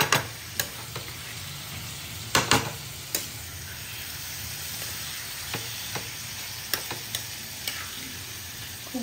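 Prawn masala sizzles and fries steadily in a pan, with sharp, irregular clinks and scrapes as a spoon stirs through it, close up.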